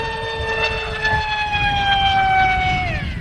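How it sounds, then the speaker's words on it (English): A BadAss 2826-1360KV brushless motor driving a propeller on 5S screams at high speed, a loud steady whine holding pitch and then dipping near the end. "Definitely sounds like the engine's screaming a lot more."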